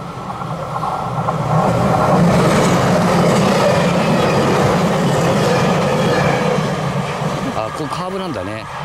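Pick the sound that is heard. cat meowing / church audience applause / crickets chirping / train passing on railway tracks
train passing on railway tracks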